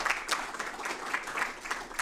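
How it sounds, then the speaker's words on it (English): Brief, fairly quiet applause from an audience after a talk on immigration policy, a patter of scattered claps with a few sharper hits. "Step one is applause."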